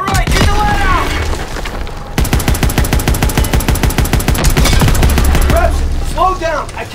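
Heavy automatic gunfire rattles in fast, continuous bursts during Call of Duty: WWII combat, with booming explosions underneath and shouting voices before and after.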